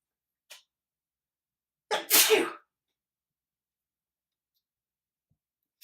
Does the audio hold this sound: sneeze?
yes